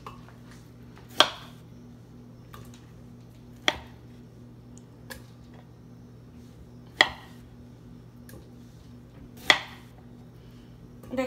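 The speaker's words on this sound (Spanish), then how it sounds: "a cortar el kiwi." Kiwi being chopped with a knife on a cutting board in a kitchen, a handful of separate sharp knocks spaced a few seconds apart over a steady low appliance hum, close and clear with no talking.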